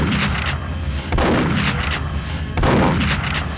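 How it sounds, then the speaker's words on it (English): Shotgun blasts in the N64 game Perfect Dark ring out as three loud, booming shots spaced about a second and a half apart, each with a long rumbling tail filling the gaps. "I've got no choice at this juncture but to use my shotgun"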